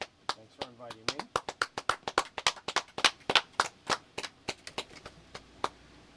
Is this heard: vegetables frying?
no